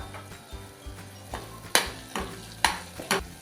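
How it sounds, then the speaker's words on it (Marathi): Spices and chili powder stirred and sautéed in a pan for an oyster curry: repeated scraping strokes of a spoon against the pan over a steady low sizzle, close and fairly quiet, with no talking. "एखाद मिनिट फक्त आपण हे मसाले परतून घ्यायचे"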